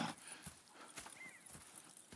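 Horses in Red Dead Redemption clip-clop at a walking pace, the hoofbeats soft and irregular against a faint outdoor background, with no talking.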